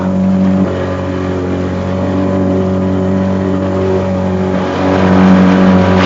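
Engine droning loud and steady as the throttle is opened, a close, continuous motor roar that swells slightly toward the end with no talk over it.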